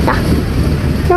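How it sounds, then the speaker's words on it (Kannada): A slow-moving train gives a steady, loud low rumble with rattling throughout, and a short horn-like toot sounds near the end. "ಫಾಸ್ಟ್ ಹೋಗಲ್ಲ, ಸ್ಲೋ ಹೋಗುತ್ತೆ ನಮ್ಮ ಟ್ರೈನ್"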